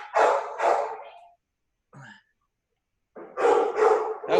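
Dogs barking at an animal shelter, two bursts of loud, close barks with a brief faint yelp in the quiet gap between them.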